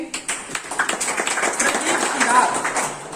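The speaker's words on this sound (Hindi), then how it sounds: "आप लोग एक जोरदार तालियां लगाएंगे" A school audience at EMRS Chhote Mudpar, Raigarh, gives loud applause, with scattered sharp claps spread through a few seconds under ongoing talk and crowd voices.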